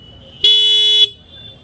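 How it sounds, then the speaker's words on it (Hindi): Horn of a red TVS Raider 125 motorcycle sounds in one steady, bright blast lasting about half a second, loud and close, with no one speaking over it. "हॉर्न एक बार साउंड आप सुन लीजिए।"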